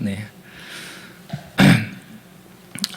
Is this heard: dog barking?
no